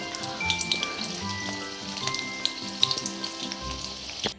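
Chicken pieces for chili chicken fry in hot oil over a medium flame, a close, steady sizzle dotted with small crackles and pops, with no voices.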